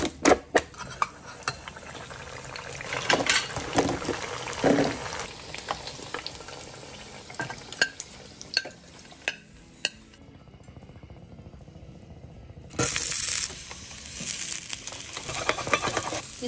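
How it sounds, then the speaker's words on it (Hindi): Chicken meatballs fry in a pan with a soft sizzle, punctuated by irregular clinks and scrapes of stirring, a brief quieter stretch, then a louder burst of sizzling near the end. "इसको थोड़ा फ्राई कर लेते हैं."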